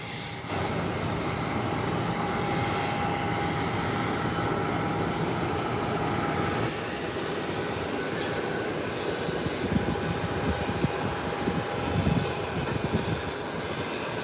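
A jet airliner taxis along an airport runway toward takeoff, a steady broad engine rumble and whine holding for the whole stretch with a faint constant tone on top, shifting slightly in texture partway through.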